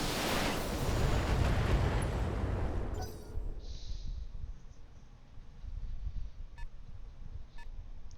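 A Battletech mech fires all its weapons at once: a loud, broad burst of cannon and laser fire that cuts off abruptly, then fainter scattered impacts and short electronic beeps follow in a quieter background.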